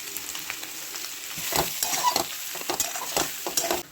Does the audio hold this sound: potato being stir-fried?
yes